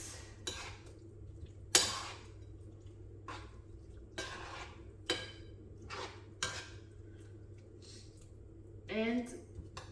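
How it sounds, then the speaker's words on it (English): Chicken yassa ingredients get stirred in a pot, quiet scrapes and clinks of a spoon against metal scattered through the clip, with a few sharper knocks and a voice speaking briefly near the end. "You mix."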